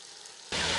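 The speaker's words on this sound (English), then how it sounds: "we've got some sizzling happening here finally" A loud, steady sizzle bursts in halfway through, a dense crackling hiss of chicken frying in a camp oven, following a quieter stretch of low background noise.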